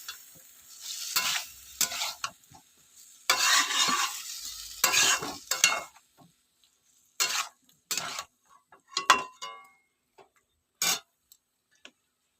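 Vegetarian soybean curry with spices being stirred and fried in a pan: loud bursts of scraping and sizzling for the first six seconds, then shorter, sparser stirring strokes separated by quiet pauses.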